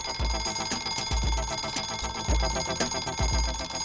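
An alarm clock rings in repeated loud bursts of bright metallic tone, with low thumps landing at a steady rhythm beneath the ringing throughout.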